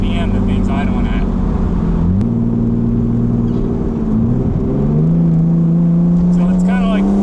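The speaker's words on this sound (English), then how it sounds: "With the AC on, it idles at like 1700 RPM." A JDM Nissan that had sat neglected for over a year idles high, near 2000 RPM with the air conditioning on. The close, loud, steady engine drone shifts pitch a couple of times, with brief voices at the start and end.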